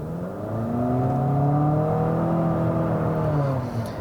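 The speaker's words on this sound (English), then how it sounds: "This new QX50 has gotten rid of that V6 with a turbo 4-cylinder and CVT." A 2019 Infiniti QX50 crossover with a turbocharged four-cylinder engine and CVT accelerates steadily, its engine drone rising smoothly in pitch and holding loud and close for about four seconds with no talking.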